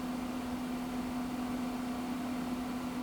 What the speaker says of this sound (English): Now I'm going to move my mic about 3 feet away so you can hear what it sounds like.